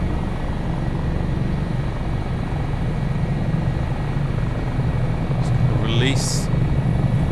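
An HH-65 Dolphin Coast Guard helicopter in level, hands-off flight over Valdez, Alaska, in Microsoft Flight Simulator 2024, its rotor and turbine making a steady, dense, loud drone throughout, with a brief electronic tone near the end and a single spoken word over it.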